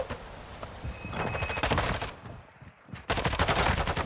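Gunfire in a competitive Call of Duty match comes in rapid bursts of automatic shots, close and loud, broken by a brief lull before firing resumes.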